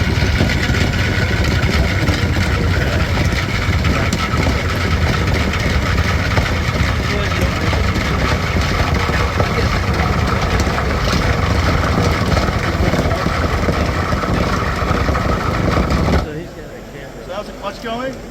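A RIDGID KM-1004 drain milling machine runs at a WWETT trade show booth with a loud, steady motor roar that abruptly drops off near the end as its electronic clutch disengages.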